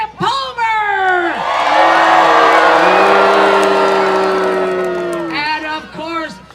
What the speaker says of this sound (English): You guys are cheering for Lumberjack Camp Palmer!